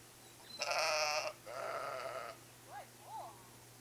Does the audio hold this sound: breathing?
no